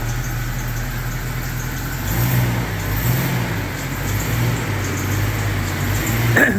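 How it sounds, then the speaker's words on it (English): A Jeep XJ engine runs at a steady idle with a squeaky pulley, a continuous low drone and hum holding close and even for several seconds with no talking. "Got a squeaky pulley in there, but other than that, it's fine."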